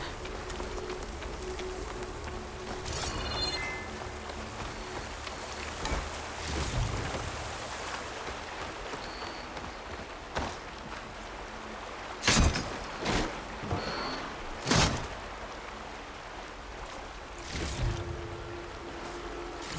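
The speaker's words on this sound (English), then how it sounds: "Rain." Rain falls in the game Horizon Forbidden West, a steady hissing patter over a low wash of wind and water. Several louder thumps and footstep-like impacts break through at intervals.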